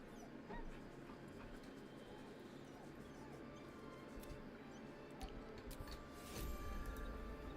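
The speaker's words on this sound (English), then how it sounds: "Always pet the dog" A dog whimpering in the video game Baldur's Gate 3, soft whines repeating through a steady, dense background of game ambience and music, with a louder swell near the end.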